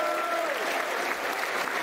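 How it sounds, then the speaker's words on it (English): Crowd at Millwall's Den stadium applauding during a Millwall v Norwich City match, continuous broad clapping filling the whole stretch, with a faint tonal trace early on. "This is 8 minute applause in honour of her and her family."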